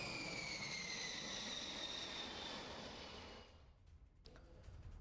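US military jet aircraft at RAF Lakenheath airbase, a loud, close, sustained engine roar with a rising whine that fades over the last second or so, leaving a quieter rumble.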